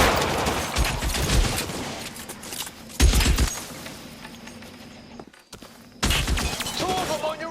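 Bursts of gunfire in the L.A. Noire video game come in several clusters of rapid shots, loud and close, separated by quieter stretches with background game sounds.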